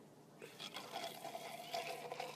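Liquid poured while an espresso drink is made with ice and almond milk, a soft continuous trickling pour that builds slightly and holds steady, fairly quiet and close.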